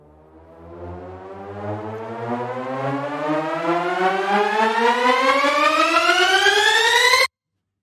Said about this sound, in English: So I think this is a pretty decent riser.